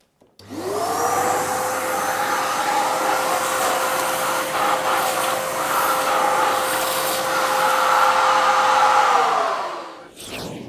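A hoover vacuums loose dust out of a crack in a wall while the surface is prepared for painting, giving a loud, steady motor whine with a constant pitch for about ten seconds before it shuts off.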